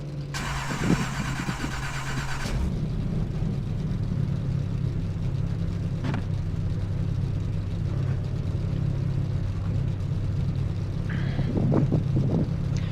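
Race car engine in the iRacing game at Bristol, a steady low rumbling drone that holds throughout, with a brief burst of bright noise at the very start.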